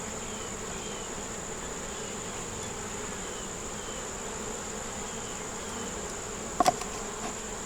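Honey bees buzzing at a hive during beekeeping work, a steady, moderately close drone of many wings continuing evenly throughout, with a brief tap or click near the end.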